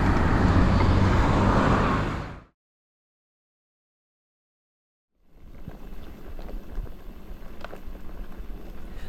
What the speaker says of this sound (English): I hope you can hear me over all that traffic.